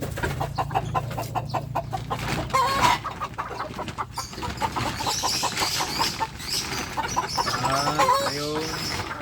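A Shamo chicken hen clucks close by in a farmyard, with a series of short, repeated throaty clucks and a few louder squawking calls, and other fowl faintly in the background.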